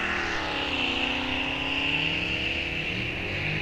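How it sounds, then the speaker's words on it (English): Drag racing cars at Rock Falls Raceway roar past with rising, shifting pitch, a sustained high-powered drone filling the whole stretch with no talk. "Can't say a whole lot while these cars go down the track"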